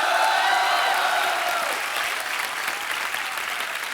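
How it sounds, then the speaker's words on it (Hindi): Studio audience at a comedy show breaks into loud, dense applause that fills the whole stretch, easing slightly in the second half but continuing steadily. "हौसला अफजाई के लिए ठोको ठोको। तालियां।"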